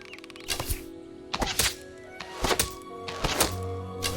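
Arrows from a bow strike a practice target in the Fable Anniversary video game, landing as four or five sharp, solid thunks spaced about a second apart, each ringing briefly over a steady low game ambience.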